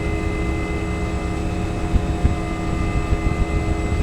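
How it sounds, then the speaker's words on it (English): UH-1 helicopter starter running in the X-Plane 11 flight simulator, a steady whirring drone with constant tonal lines over low rumble, even and continuous at moderate level with no talk. "basically this is the starter for the helicopter"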